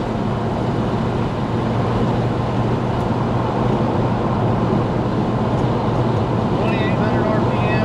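A Chevrolet El Camino cruising along a rough road fills the cabin with a constant, loud broadband rumble of engine and road noise, with a voice coming through faintly.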